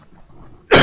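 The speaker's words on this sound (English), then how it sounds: "Sorry for this coughing." A single sharp, loud cough bursts out at the very end after near silence.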